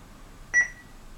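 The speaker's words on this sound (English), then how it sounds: "If we put it into loading mode, it beeps" A single short electronic beep from an Orwell computer as it switches into loading mode, clear and close against a quiet background hiss.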